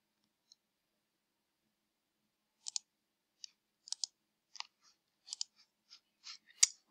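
Sharp computer mouse clicks, single and in quick pairs, while navigating a school learning website, sounding close and crisp against near silence, with about a dozen clicks coming irregularly over several seconds.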